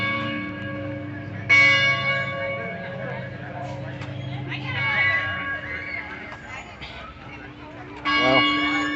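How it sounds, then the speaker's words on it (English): A large bell struck repeatedly by a crowd of visitors at the University of Georgia in Athens, loud ringing strokes with long decaying hum between them, over outdoor murmur and nearby voices. "appears to be a lot of people trying to ring the bell currently"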